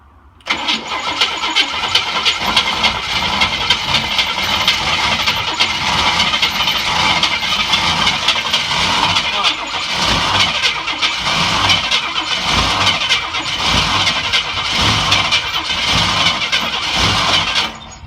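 A Chevy Nova engine cranks and catches on a cold start, then settles into a loud, steady idle with a rough, uneven throb that carries on close by for the rest of the clip.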